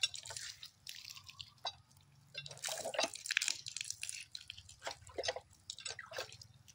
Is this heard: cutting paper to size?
no